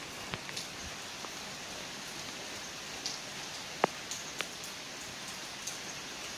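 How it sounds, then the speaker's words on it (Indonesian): Steady rain falls on a roof at a house where roof framing for a kitchen rain gutter is being installed, a soft even hiss with occasional louder drips, no voices. "Karena hari ini hujan"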